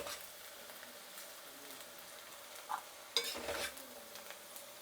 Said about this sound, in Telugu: డీప్ ఫ్రై చేస్తున్నాం కాబట్టి ఫాస్ట్లో వేగిపోతుంది